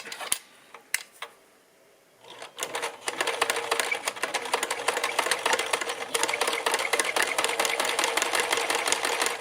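A sewing machine stitches the seam of a Christmas stocking, starting with a few isolated clicks, then pausing before the needle runs into a fast continuous rattling hum that stays loud and steady to the end.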